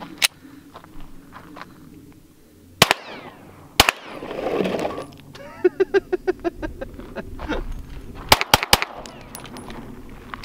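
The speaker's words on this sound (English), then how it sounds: "This is the 115 grain full metal jacket, and I'm using a Glock 19." Sharp 9mm pistol shots from a Glock 19 firing 115 grain full metal jacket rounds at a sewer lid, loud isolated cracks followed by a quick cluster of several shots, with metallic clatter and rustling in between.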